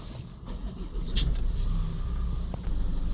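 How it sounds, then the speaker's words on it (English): A Land Rover engine runs steadily at idle after repair of a reduced injector circuit open fault, a low, continuous rumble fairly close by with a brief higher clatter partway through and no talking. "we're going to run the vehicle for a few minutes and then rescan it"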